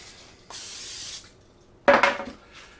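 Two short bursts of cooking spray hiss from a can onto a jelly roll pan, the first steady for under a second, the second sharper and louder, with quiet between them.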